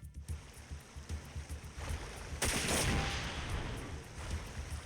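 Rifle attack in Front Mission 4: a rapid burst of muffled gunfire thuds followed by a loud, sustained blast and rumble, steady and fairly close, with no talk.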